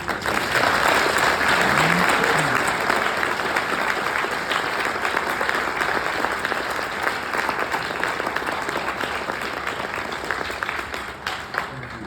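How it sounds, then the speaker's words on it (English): An audience at an honors convocation applauds steadily for about twelve seconds, a dense wash of clapping that slowly tapers near the end. "Can we just please take a moment to give Mr. Bunigson a round of applause?"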